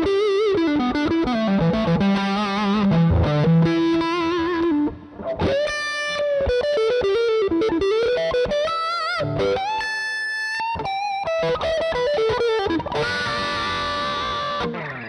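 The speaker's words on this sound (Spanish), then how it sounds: "Entonces te da un poco ese juego como un wah" Distorted electric guitar notes with a sweeping wah-like tone, produced by flicking the pickup selector back and forth while playing, moving from bassy to sharp and bright in fast, choppy bursts.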